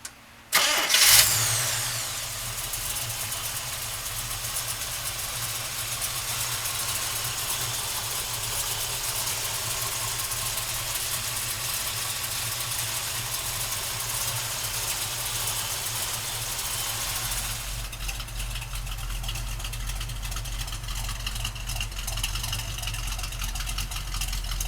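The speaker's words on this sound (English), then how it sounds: "let's fire this big block up" A 1968 Chevrolet Camaro big block engine cranks and catches about a second in, then settles into a loud, steady, deep idle that runs without talk until the end.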